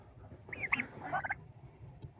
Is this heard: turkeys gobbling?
yes